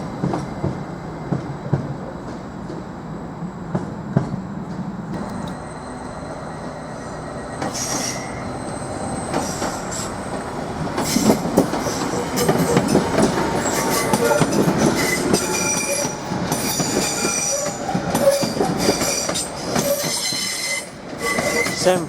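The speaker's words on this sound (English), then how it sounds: "755338 is now pulling into the station" Class 755 train 755338 pulling into Norwich station, with rumbling wheels, clattering rail joints and sharp high squeals of braking wheels building over twenty seconds close by.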